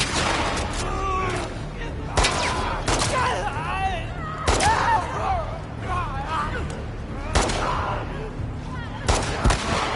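Gunfire in The Last of Us Part II: several sharp, loud shots at irregular intervals, some in quick pairs, over steady in-game ambience. Someone talks through much of it.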